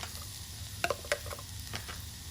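Chopped ginger and garlic sizzle in hot melted butter in a pan, a steady soft frying hiss with a few sharp clicks and pops near the middle, and no voices.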